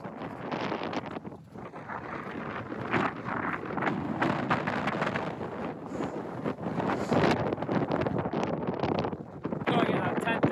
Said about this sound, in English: Wind's really strong again now.